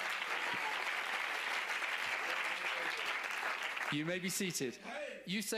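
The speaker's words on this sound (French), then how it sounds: "Donnez-lui une acclamation parce que c'est une citation merveilleuse." Congregation applauding and cheering at a church talk by a Catholic priest, a loud sustained wash of clapping that continues steadily before breaking up near the end, where a voice begins speaking over the fading applause.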